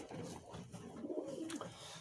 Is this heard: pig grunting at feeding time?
no